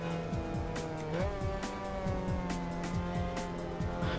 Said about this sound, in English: Let's roar down the straight with the tiny amount of horsepower that this car has.